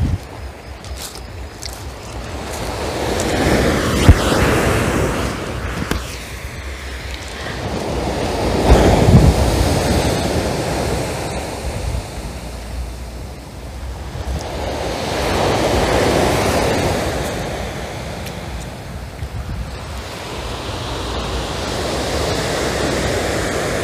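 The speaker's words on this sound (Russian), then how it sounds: "сейчас предупредили, что 4 дня будут очень большие волны" Big sea waves break on the shore at Adler, loud surging crashes rolling in every few seconds with wind buffeting the microphone between them.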